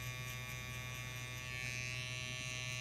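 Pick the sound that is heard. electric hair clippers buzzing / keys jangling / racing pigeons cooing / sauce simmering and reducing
electric hair clippers buzzing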